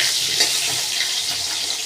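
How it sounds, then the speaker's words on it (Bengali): Potatoes frying in oil in a pan after a tempering of cumin, dried chilli and bay leaf, a continuous hissing sizzle with faint stirring scrapes, close and steady. "আলুটা আমি ভেজে নিচ্ছি।"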